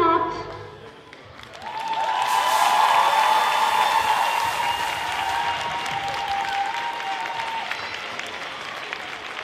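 An audience applauds after a children's dance performance, a dense wash of clapping that swells after a quiet second and holds steady. Faint voices and a sustained tone sit under it.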